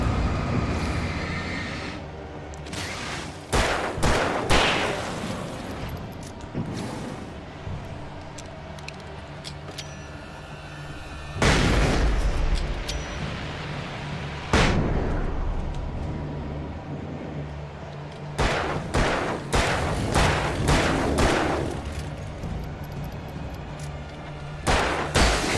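Shotgun and hunting rifle fire from Alan Wake Remastered: sharp single reports come at uneven gaps over a low, steady droning background, some shots louder and closer than others.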